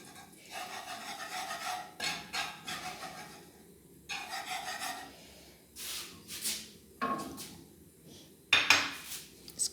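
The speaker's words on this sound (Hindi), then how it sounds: "ऑयल के अंदर मैदे को डाल के ऐसे ऐसा मिक्स करते जाएंगे" A spoon stirs flour into oil in a pan to make a roux for pepper steak sauce, producing intermittent rasping scrapes and clinks against the metal, faint and close, in short bursts separated by quiet gaps.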